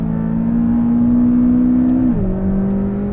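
A McLaren 570S on a race track, its engine holding a loud, steady drone from inside the car, then the pitch drops sharply as the driver lifts or shifts, settling lower with road noise underneath.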